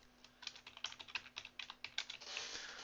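A customer name is typed on a computer keyboard at a bicycle shop point-of-sale system, a quick irregular run of soft key clicks, close and quiet, with no voices.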